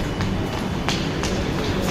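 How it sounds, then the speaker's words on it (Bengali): A metro train arriving at Tollygunge station, heard as a steady, loud rumble of rail noise with a few sharp clicks and rattles, all without voices. "তো মেট্রো চলে এসছে"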